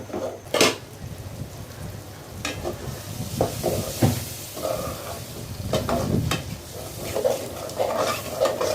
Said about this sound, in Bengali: আমি ভালো করে নাড়াচাড়া দিয়ে দিচ্ছি। আমার কলজাটা কষানো হয়ে গেছে, ভালো করে আরেকটু কষিয়ে নিব।